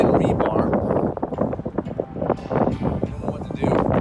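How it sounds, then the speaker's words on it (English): Strong wind buffets the microphone in heavy, rumbling gusts at a construction site with rebar-tied concrete footing trenches, with a voice speaking faintly beneath the roar. "The wind is bad today."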